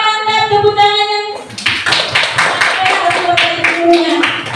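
Classroom clapping at a positive-discipline session at an elementary school, SDN 29 Bantan, starting after a brief sustained tone and continuing as a loose, close rhythmic patter of hands from a small group.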